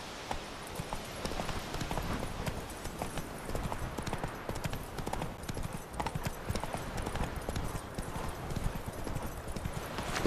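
Rapid clip-clop of a horse galloping in The Witcher 3, steady hoofbeats close and loud over outdoor game ambience, with a brief whinny and a voice urging the horse on.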